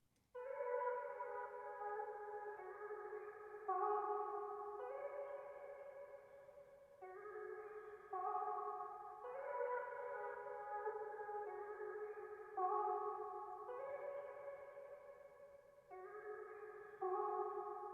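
A sustained vocal sample, EQ'd and washed in Valhalla Vintage Verb reverb, plays alone as smooth layered tones shifting between held chords in a slow, repeating pattern.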